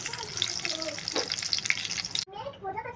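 Chicken pakoras crackling and sizzling in hot oil, a steady bubbling fry with bright spattering that cuts off abruptly, leaving a softer gurgle near the end.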